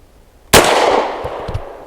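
A single loud 9mm pistol shot using Winchester USA Ready 115-grain flat-nose ammunition, a sharp crack followed by a ringing, reverberant tail and a few faint clicks.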